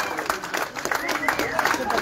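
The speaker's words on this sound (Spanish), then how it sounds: "aplauso, señores, mucho aplauso." An audience applauds at a live outdoor concert of Paraguayan music, a burst of mixed clapping from a crowd with a voice talking over it, fairly loud and uneven.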